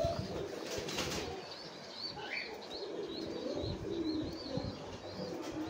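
Steel Siraj pigeons at a farm loft coo softly, with scattered chirps and a brief flutter of wings over a steady hum of background bird noise.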